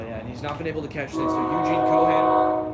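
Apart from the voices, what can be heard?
train horn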